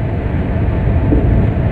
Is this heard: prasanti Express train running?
yes